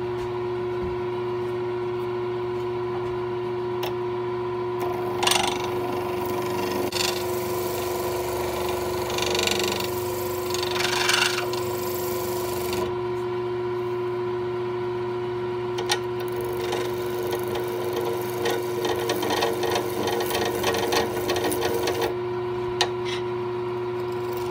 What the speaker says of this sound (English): A little bit more, and then we'll start doing sanding on it.